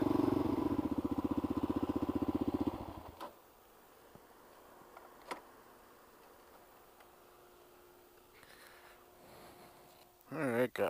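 An old Kawasaki KLR motorcycle engine idles with a steady, loud thumping putter for about three seconds, then cuts off, leaving quiet background with a few faint clicks and a brief rustle near the end.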